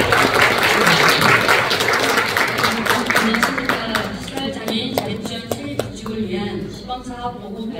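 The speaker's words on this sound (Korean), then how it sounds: "여러분 뜨거운 박수 부탁드립니다" A crowd at a Jeju City meeting on integrated community care for disabled people answers a call with warm, loud applause that fills the room, then slowly tapers into sparse single claps as it dies away.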